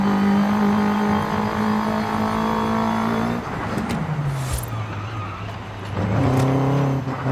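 Car engine in the Forza Horizon 5 racing game, a loud steady drone with a dip and shift around the middle as revs change, then a rising rev again near the end, with no talking.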